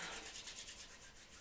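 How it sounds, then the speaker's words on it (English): Hands rub briskly together during a yoga and mindfulness session, a steady close swishing friction with a quick back-and-forth rhythm, heard alone without speech. "So let's just rub those hands together."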